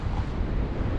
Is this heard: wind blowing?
yes